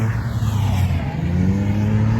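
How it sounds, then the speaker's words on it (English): Cars drifting on a hot race track during a media day at a circuit, a steady engine drone with rising revs holding throughout, fairly distant behind the microphone. "The track is hot. There's drifting happening behind me."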